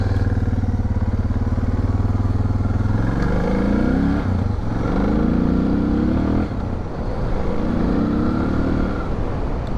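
A Suzuki DR650 motorcycle ridden along a loose track, its engine droning loud and close throughout, the pitch rising and falling as the rider works the throttle and shifts gears.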